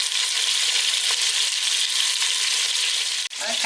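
Beef pieces for Karni Stoba browning in a hot oiled pan, giving a loud, steady sizzle close to the mic with a brief dip near the end, and no one talking.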